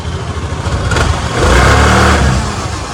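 A used 2019 motorcycle with a Suzuki engine, started and running close by, a steady engine note that swells in a brief rev and then settles back toward idle, with no talk over it.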